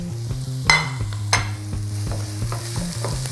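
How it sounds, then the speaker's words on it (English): Onions frying in a pan with a steady sizzle, broken by a few sharp scrapes of stirring and soft tapping from the utensil. "The onions need time to caramelize, so we put them in first."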